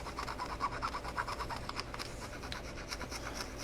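Nano glass file cutting and polishing a plastic scale-model part, quick close rasping strokes in a steady back-and-forth rhythm, soft and dry with no talking.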